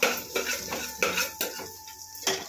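A utensil scrapes and clinks against a pan in quick repeated strokes while onions fry, with a faint sizzle underneath.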